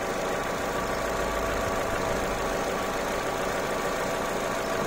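A Vauxhall Corsa engine idles smoothly with no misfire, a constant close mechanical rumble and hum that holds steady throughout without speech.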